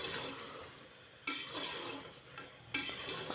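Mutton for khada masala gosht frying in oil in a pan, a soft continuous sizzle with two sharp stirring scrapes of a utensil against the pan.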